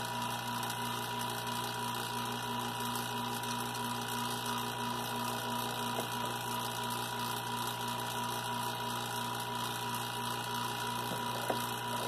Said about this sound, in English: let's see what happens when we pull a vacuum on it.